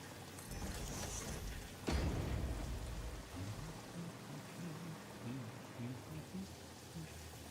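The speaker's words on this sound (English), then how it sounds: "Who knew it rained so much in the desert?" Steady rain falls in a desert area of the video game Satisfactory, a dense continuous hiss with a brief louder burst near two seconds, and faint low tones underneath.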